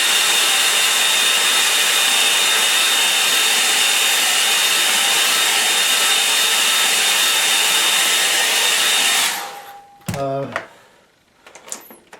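A hair dryer blows steadily and loudly on a watercolour painting for about nine seconds, then clicks off, followed by a few brief handling knocks.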